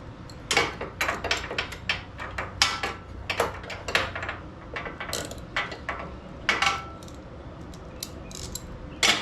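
Socket wrench ratcheting on a bolt of a Kohler KT725 22hp engine on a Gravely ZTX42 zero-turn lawn mower: rapid, close clicking in short irregular runs with brief pauses, fairly quiet and alone.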